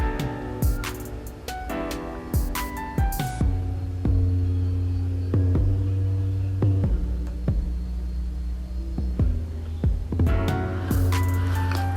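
A sewing machine stitches decorative seams on an African boubou, its motor whining steadily with repeated rising and falling speed changes and short pauses, close and fairly loud with no talking.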